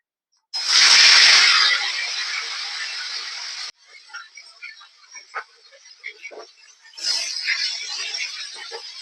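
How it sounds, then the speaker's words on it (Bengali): Loud hissing sizzle as small sarpunti fish drop into hot mustard oil, easing to softer crackles and pops, then flaring up again. "তেলটা গরম হয়ে গেছে এবার মাছগুলো একে একে ভেজে নেব"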